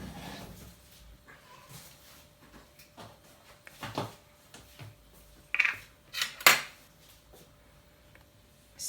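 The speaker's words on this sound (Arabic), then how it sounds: "نخلطوا في الاول نخلطوا غير شويه، نبداو نضيفوا الزيت." Dough for a savory pastry is mixed in a bowl, heard as scattered soft scrapes and thuds that build to a few sharp clinks of utensil against the bowl, close and quiet with pauses between.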